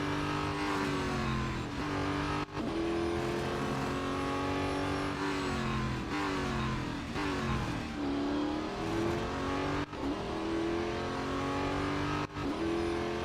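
Race car engine in a Real Racing 3 game race drones loudly and continuously, rising and falling in pitch with gear shifts and revving over several laps' pace, steady and close.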